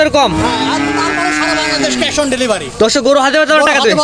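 A cow on a Bangladeshi cattle farm gives one long, loud, close moo lasting about two seconds, followed by shorter lowing and animal calls. The sound is heard alone, without other noise.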